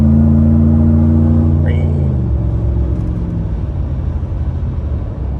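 A Ford F-150 pickup in limp mode drives on a road with a loud droning engine hum that drops in pitch as it brakes and slows, giving way to road rumble.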